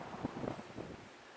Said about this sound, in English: I know it's a little windy, it might be a little hard to hear